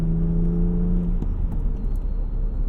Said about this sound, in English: those headers really bring out the European kind of high-pitched sound in this